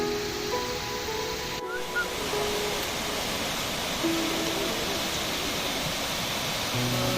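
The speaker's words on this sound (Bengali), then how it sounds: "এটা শ্রীখোলার ঝর্ণা" Srikhola waterfall on a mountain trek, a steady, loud rush of falling water that fills the whole stretch without pause, close by and continuous.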